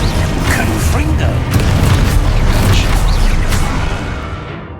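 The Confringo fire spell bursts in Hogwarts Legacy gameplay as a loud, dense rumble of booming impacts and crackling debris, sustained for several seconds before easing off.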